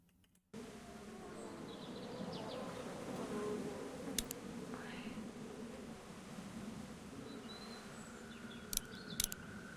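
A fly buzzes around a room, a continuous droning hum that rises slightly and persists in the foreground, with a few faint clicks and a brief high chirp near the end.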